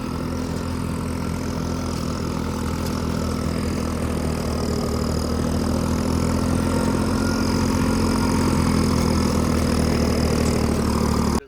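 A Massey 9500 4WD tractor engine pulling an 8-foot super seeder runs at a steady, unbroken drone for the whole stretch, loud and close with no change in pace and no voices.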